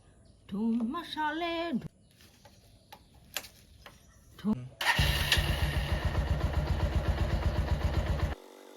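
After a voice and a few clicks, a motorcycle engine starts up and idles with a rapid, steady throbbing putter close by, then cuts off.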